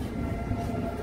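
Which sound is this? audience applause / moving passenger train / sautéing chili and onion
moving passenger train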